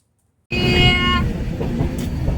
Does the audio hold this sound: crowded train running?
yes